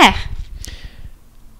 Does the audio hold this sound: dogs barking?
yes